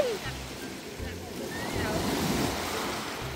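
Ocean waves crash on a beach in a continuous, rolling surf wash with wind buffeting the microphone, the roar swelling slightly toward the end while faint voices sit in the background.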